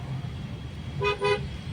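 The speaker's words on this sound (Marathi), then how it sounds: "काकांना एक हॉर्न दिला आपण" Two short car horn toots in quick succession, clear and close, over a low rumbling engine, in traffic during a driving lesson.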